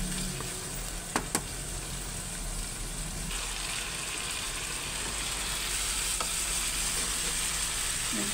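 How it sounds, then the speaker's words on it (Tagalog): Chicken pieces seasoned with salt, MSG, black pepper and soy sauce sizzle steadily in a pan as they brown for adobo, a continuous close frying hiss with a couple of sharp clinks near the start and occasional stirring scrapes. "igisa lang natin dyan yung ating manok hanggang mag-brown."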